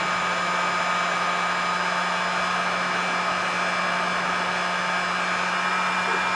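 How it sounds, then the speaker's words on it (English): A heat gun blows hot air onto a freshly painted fishing jig, a loud, steady, close-up whooshing roar with a constant motor hum that lasts the whole time. "Give that quick blast of heat."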